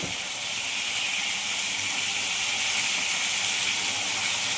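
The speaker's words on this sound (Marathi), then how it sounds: "हा हलव्याच्या बोट्या पण मस्त फ्राय झाल्यात बघा एका बाजूनी" Thick halwa fish pieces fry in oil in a home kitchen pan, giving a steady, even sizzle and hiss that fills the whole moment without pause or voices.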